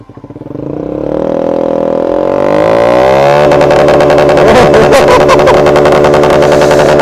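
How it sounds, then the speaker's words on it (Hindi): A motorcycle, named as an Ntorq, fitted with a double barrel aftermarket exhaust, revs up from idle into a loud, sustained, rasping roar, very close and alone. "तो यहाँ पे एंटॉर्क में लगी हुई है डबल बैरल एग्जॉस्ट। ज़रा सुनते हैं इसका साउंड कैसा है।"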